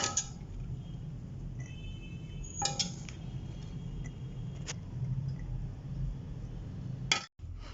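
Handmade Punjabi potay wali seviyan vermicelli being served onto a plate, with a few sharp clinks of a utensil against the dish over a low, steady background hum.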